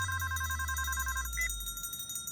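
A phone rings with a repeated trilling electronic ring that stops partway through, followed by a single short beep, fairly close, with no talk.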